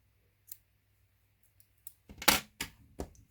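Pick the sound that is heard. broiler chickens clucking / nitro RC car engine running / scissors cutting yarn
scissors cutting yarn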